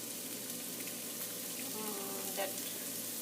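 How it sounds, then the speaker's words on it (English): Chopped onions sizzle in a hot pan for a curry, a steady broadband hiss with a faint extra crackle midway, close and continuous with no talking. "The chopped onions are being put into the pan. You can hear it sizzling."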